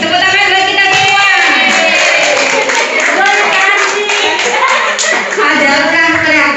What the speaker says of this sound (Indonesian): tepuk tangan buat kita semua